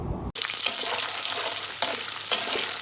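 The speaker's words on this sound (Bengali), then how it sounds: "বেশ খানিকটা তেল হালকা গরম করে শুরুতেই আমি 3টি রসুন কুচি করে কেটে দিয়ে দিব" Three chopped garlic cloves hit lightly heated oil in a pan and burst into a loud, steady sizzle after a brief quiet moment, crackling continuously and close up.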